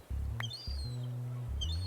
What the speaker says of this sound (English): And there's the frickin' seagull again.